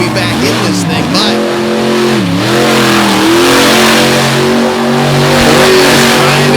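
A monster truck engine revs hard at a Monster Truck Invasion show in Hagerstown, a loud, close, continuous roar whose pitch repeatedly swoops up and down through the throttle blips.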